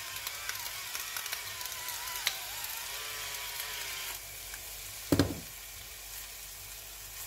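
Eggplant ratatouille seasoned with black pepper and salt stirred in a sizzling pan, a steady frying hiss with a sharp utensil clatter near the end, no speech.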